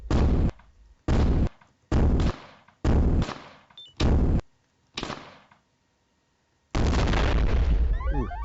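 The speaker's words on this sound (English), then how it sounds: "That explosion happened to kill the one that was lower" Explosions in a Space Invaders-style C++ SDL video game burst out as a run of sharp, loud blasts at roughly one-second intervals, each decaying quickly, then a longer sustained rumbling blast at the end.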